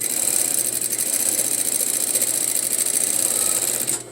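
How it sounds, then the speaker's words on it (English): A sewing machine runs steadily while stitching a straight line, giving a constant mechanical whir with a fast, even needle rhythm that stops abruptly at the very end. "I'm just going to sew a straight line"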